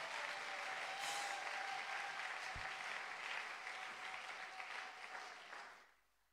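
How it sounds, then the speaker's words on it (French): A church congregation claps together in sustained, fairly distant applause that holds steady and then fades out to silence near the end. "Acclamons très fort"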